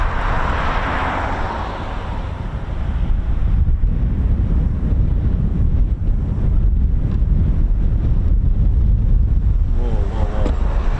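Strong wind buffets the microphone in a constant low roar and rumble, gusting throughout with no talking, at RAF Mildenhall airbase.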